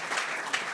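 Studio audience on a Congolese TV talk show breaking into steady applause, a dense wash of clapping that holds evenly through the moment without voices on top.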